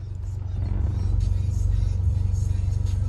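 A warmed-up Honda Prelude (5th generation BB6) engine idles steadily nearby, a low pulsing rumble with slight swells in level and no talking.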